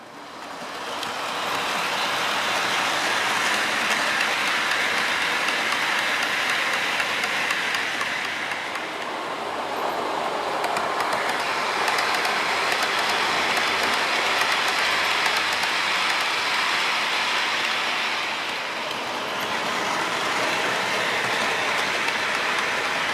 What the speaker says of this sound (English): Helgen locomotives run very well